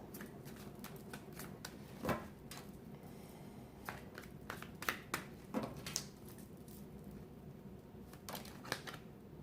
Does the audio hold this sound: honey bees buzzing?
no